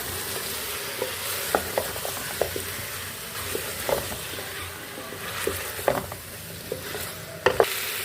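Potatoes are stirred into a frying turnip and mutton curry, a steady close sizzle punctuated by scraping spoon strokes and soft clacks against the pot.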